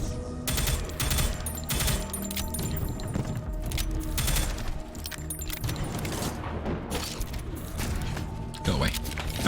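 Rapid bursts of gunfire ring out in the Prodeus retro shooter video game, dense and loud, repeating in clustered volleys across the whole stretch.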